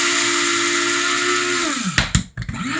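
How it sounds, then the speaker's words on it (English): An electric coffee grinder whirs loudly as it pulverizes xylitol crystals into powdered sugar, a steady high-pitched motor drone that winds down in pitch and cuts off, followed by a few brief clunks and rattles. "coffee grinder. They do a lot of things aside from making coffee."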